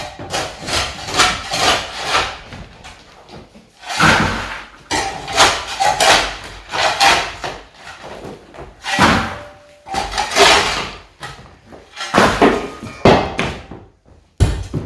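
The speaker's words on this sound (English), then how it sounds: "removing all the sand and cement" Hand chipping and scraping of old sand and cement from a dining room floor, repeated bursts of harsh knocking and scraping in uneven clusters with short pauses, close and fairly loud.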